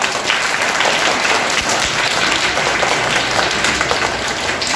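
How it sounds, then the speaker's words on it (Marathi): Loud, dense applause from a crowd at a school Marathi Day quiz, with steady clapping filling the whole stretch and no talking over it. "जोरात टाळ्या वाजवा"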